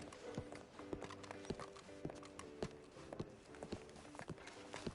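A horse walks at a steady clip-clop in Red Dead Redemption 2, hooves striking in an even, repeating rhythm, fairly faint and close, with soft ambient noise and no talk over it.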